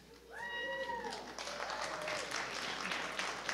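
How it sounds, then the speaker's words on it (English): Applause from the audience honoring Bachelor of Sciences graduates at a university engineering fall recognition ceremony, a steady continuous patter of many hands under a brief tonal sound at the start. "Let's all give a round of applause to our graduates for Bachelor's of Sciences."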